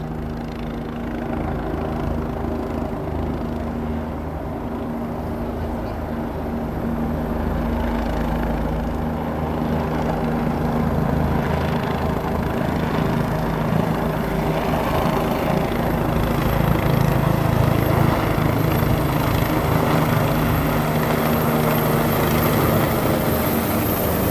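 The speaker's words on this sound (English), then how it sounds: "Yeah, I think this is a helicopter tour." A tour helicopter passes over a snowy Chicago lakefront, heard as a steady low engine and rotor drone that grows slightly louder partway through and stays continuous throughout.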